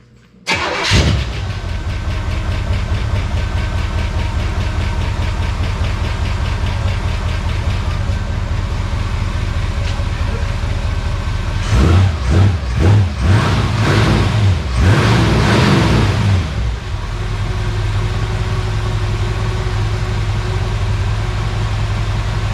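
An old V8 car engine with one noisy lifter cranks, starts and settles into a loud, steady idle with a ticking undertone, broken by a few sharp throttle blips partway through, with no talk.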